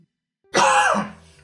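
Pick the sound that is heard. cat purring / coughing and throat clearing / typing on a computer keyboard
coughing and throat clearing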